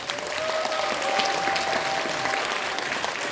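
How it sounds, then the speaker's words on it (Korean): A seminar audience claps loudly and steadily throughout, a dense, continuous round of applause from a crowd in a lecture hall with no speech over it. "우리 보실 때 큰 박수 부탁드리겠습니다."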